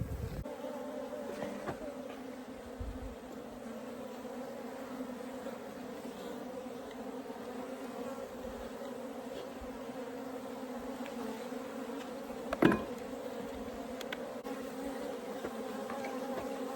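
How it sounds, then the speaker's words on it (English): A swarm of Africanized bees in a water meter hive buzzes in a steady, dense drone that continues throughout, with one brief sharp knock partway through. "Crazy bees."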